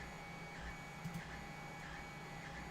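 A 3D printer runs quietly in a room with a steady low hum, and a faint pattern of soft stepper-motor chirps repeats about every three quarters of a second, with no talking.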